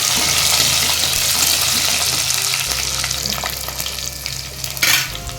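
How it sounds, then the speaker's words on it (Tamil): Fish curry ingredients sautéing in oil in a pan, a loud continuous sizzle with spoon stirring and scraping throughout and a brighter burst near the end, with no talking. "இது வந்து வதக்கிக்கலாம்."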